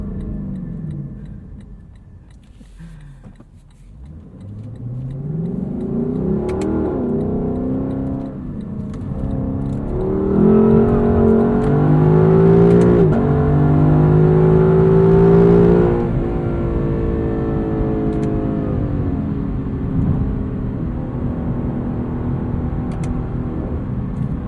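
A 2018 Lexus LC 500 revs and accelerates up close, its engine note climbing through the gears in rising harmonic sweeps, loudest near the middle, then settling into a steady drone.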